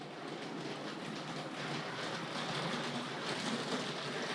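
A Tri-ang Railways R.159 double-ended model diesel locomotive runs steadily along its track, giving a continuous close rolling rattle with a light clickety rhythm and no voices.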